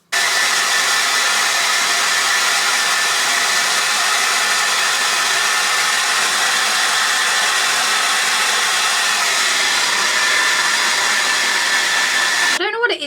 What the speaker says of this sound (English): like 5 minutes with the hairdryer and it is dry